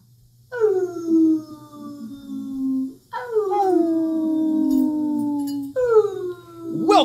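Drawn-out howls from puppies, three long wavering cries that slide downward in pitch, close and fairly loud, with brief gaps between them.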